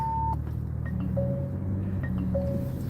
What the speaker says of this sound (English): now that beep beep sound is my seatbelt